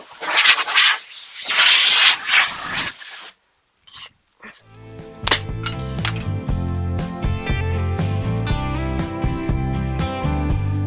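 Compressed air blasts loudly across a car door panel being repaired for a dent, a harsh broadband hiss in bursts for about three seconds, then a short pause before music comes in.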